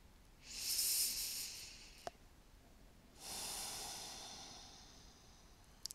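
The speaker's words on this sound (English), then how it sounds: "Take one breath here." Slow, deep breathing during a floor-based core yoga exercise: a long breathy inhale or exhale near the start, a small click, then a second long airy breath, close and soft with no talking.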